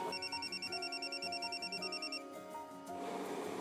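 A phone rings with an incoming call in a repeating electronic ringtone pattern, close and clear, fading out toward the end into background noise.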